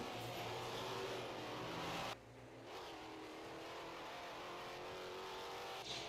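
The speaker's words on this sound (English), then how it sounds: "I believe there's another car." Race cars at speed on the Laguna Seca circuit during a 2024 AASC Foxbody feature race, a steady loud engine roar that dips briefly mid-way before resuming, with no voices.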